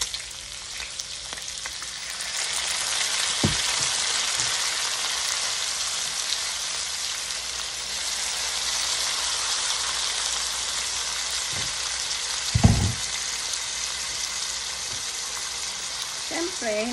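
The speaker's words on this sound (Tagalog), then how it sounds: "Lalagyan ko siya ng konting soy sauce. At maglalagay din ako ng konting suka." Pork belly adobo with soy sauce and vinegar sizzles steadily in a pan, a dense hiss of frying with a few clanks of stirring.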